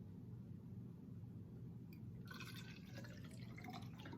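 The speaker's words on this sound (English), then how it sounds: "I poured it from here to there" Liquid is poured into a container, starting after a quiet pause as a faint, bright trickle and splash that continues for the last couple of seconds over low background hum.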